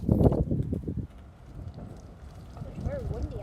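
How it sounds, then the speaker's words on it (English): Strong wind blows outdoors where a cap gun is being fired, producing low, rumbling gusts against the microphone under people talking. "It's very windy out there."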